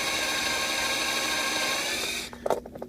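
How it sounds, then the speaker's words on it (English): A power drill whirs steadily at high speed for a couple of seconds drilling into a Hot Wheels toy car, then stops, followed by a few light clicks and handling noises. "Start drilling in."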